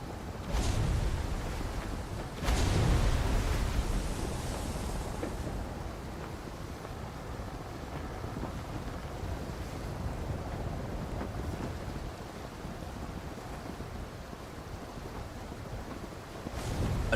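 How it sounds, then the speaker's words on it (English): A boat sailing across the sea in the game Arcane Odyssey, a steady wash of wind and rolling waves with a couple of louder surges of water near the start, continuous and unbroken by talk. "Another 10 minutes of sailing."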